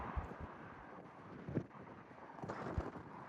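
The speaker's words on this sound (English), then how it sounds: "the wind is really howling." Steady rushing wind buffeting the microphone at Lake Hartwell, South Carolina, with gusty thumps and rumbles rising and falling, fairly faint overall.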